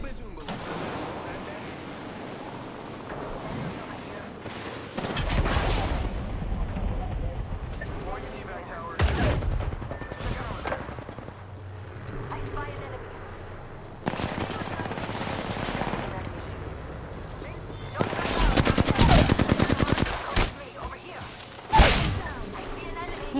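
Gunfire in the Apex Legends shooter, including a Longbow sniper rifle shot: several sharp, loud cracks and bursts spread across the scene, the heaviest cluster near the end, with voices in the background.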